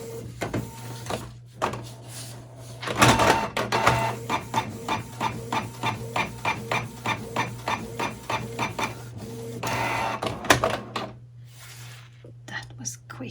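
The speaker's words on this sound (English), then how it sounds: "Let's put it into the printer." A fabric printer runs a rapid, steady series of mechanical passes while printing a big butterfly design onto cloth, close and fairly loud over a constant low hum, with brief soft talk near the start.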